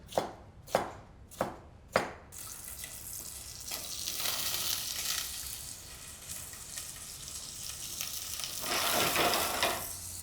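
Red pepper roughly chopped with a knife, four sharp, evenly spaced knife strikes on a board, then a long stretch of close, steady sizzling and stirring in a pan, no voices.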